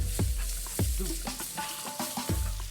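Finely chopped onion goes into a pan for a South Indian fish curry and sizzles softly, with a few clinks and scrapes of stirring over a low frying hiss; brief and close.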